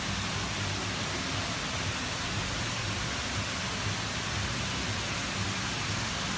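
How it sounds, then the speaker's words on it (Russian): A hotel waterfall in Bali gives a steady, dense rush of falling water, loud and unbroken, with no voices over it. "Здесь вот такой водопад."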